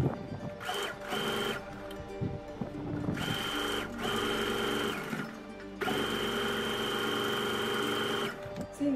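Sewing machine top-stitching over the facing of a 34-inch blouse runs in three long bursts with short pauses between them, close and steady, with no talking.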